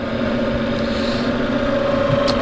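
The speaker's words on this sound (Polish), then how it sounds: "To jest napędzający ją silnik. Podejrzewam, że około 700 W." A roughly 700 W electric motor drives a worm gear with a very high reduction ratio on a grain conveyor in a flat granary, making a steady close hum with mechanical vibration throughout.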